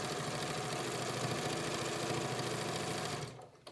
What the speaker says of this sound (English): continue to sew this binding on